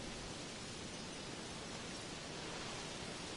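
Water being added in the Jurassic World Evolution video game, a steady broadband rushing like a flowing stream or waterfall, even and continuous with no talk over it.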